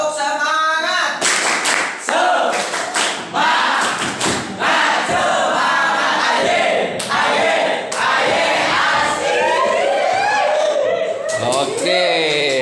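Classroom of Indonesian madrasa students performs a loud group clap-and-cheer chant, rhythmic bursts of hand claps punctuated by shouted voices, close and energetic throughout.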